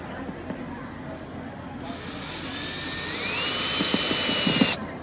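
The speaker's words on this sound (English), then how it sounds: "That's an annoying noise. Let's not put it on hammer drill." An electric drill bores holes into the back of a box, a loud whining motor that starts abruptly, rises in pitch as it spins up, and cuts off sharply near the end.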